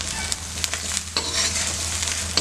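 Soya chunk balls fry in a pan with oil, a steady crackling sizzle with soft stirring scrapes as they are turned over and over, close and continuous with no talking.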